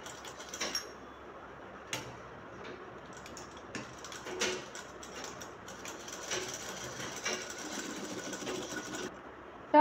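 A sewing machine stitches fabric for a colour shirt, running a 1/4-inch seam along a piece before turning at the end, with a steady, moderately quiet mechanical whir, faint ticks and a few brief louder clicks throughout.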